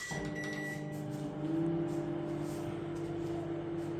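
A microwave oven with a replaced magnetron runs with a steady electric hum and sustained tonal drone, continuous at moderate level with no voices.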